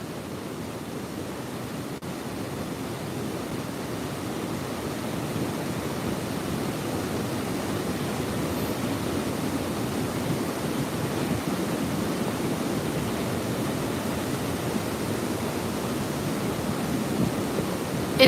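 Loud, steady rush of the Potomac's falls at Great Falls, Maryland, a dense continuous roar of churning water with some wind buffeting the microphone, holding constant throughout with no talking.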